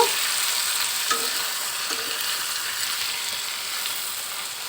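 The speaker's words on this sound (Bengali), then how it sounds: "এখন আমি সেদ্ধ করে রাখা কাঁকরোল আর আলুগুলো দিয়ে দিলাম" Boiled pointed gourd and potatoes frying in a pan: a steady, close hiss and sizzle of hot oil with faint stirring scrapes and small pops, lasting throughout with no talk.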